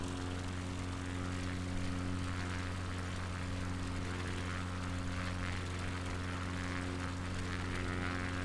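A propeller plane's engine drones steadily and loudly in a flight simulator game during a flight over the Isle of Wight, an unbroken hum with no other sounds.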